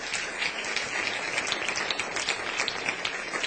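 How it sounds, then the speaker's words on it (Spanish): A church congregation claps during a sermon, continuous soft applause at an even level throughout, somewhat distant and without any voice over it. "Si va a aplaudir, aplauda."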